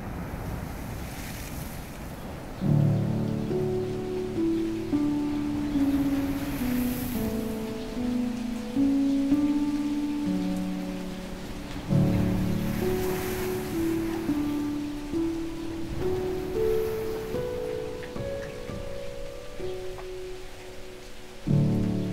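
Ocean waves at a backyard shore on the Isle of Lewis, Scotland, a continuous surf wash with periodic swells, heard under a steady melodic music track.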